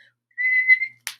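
A clear, steady whistle, as if blown through an acorn cup, holds a single high tone for about half a second with a slight wobble, followed by a short airy burst, near and alone in a quiet room.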